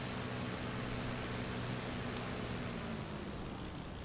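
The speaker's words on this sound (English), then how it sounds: "I just hear the sound of the engine and look at how the plane's performing" A World War II propeller aircraft engine in the IL-2 Sturmovik flight simulator, a steady, continuous droning hum at low volume with no speech over it.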